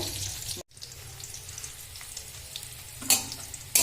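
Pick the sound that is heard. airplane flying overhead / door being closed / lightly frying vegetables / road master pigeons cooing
lightly frying vegetables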